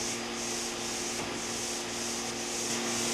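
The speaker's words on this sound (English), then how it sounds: "Now let's look at pole sanding with the vacuum." Drywall pole sander with a vacuum attachment scrapes across a wall, paired with the constant roar of the vacuum; steady close rasping hiss with no talk.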